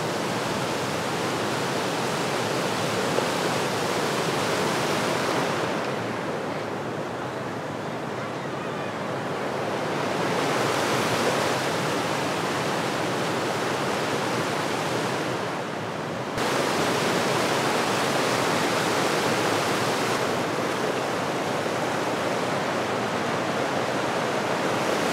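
A river flowing beside the road on the drive from Srinagar to Dras near Zojila, heard as a loud, continuous broadband rush that swells and eases slightly over the stretch, with no speech.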